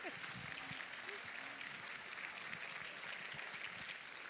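Round of applause from an audience at an academic program event, a dense steady wash of clapping filling the whole stretch with faint voices and cheers mixed underneath.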